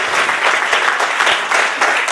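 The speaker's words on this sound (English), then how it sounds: "So give them a round of applause." Loud, dense applause from a large audience at a competition finals event, a continuous wash of many hands clapping close by with no break, steady in level throughout.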